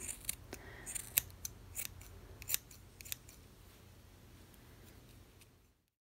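Small scissors snip at a yarn pom pom in a quick, irregular series of crisp cuts, close and fairly quiet, thinning out toward the end before falling silent.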